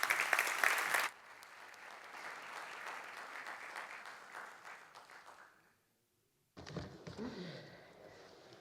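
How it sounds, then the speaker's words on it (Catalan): Applause at an anniversary celebration for a publishing house, an audience clapping steadily before it fades to a brief silence, after which a speaker starts talking. "Un fort aplaudiment."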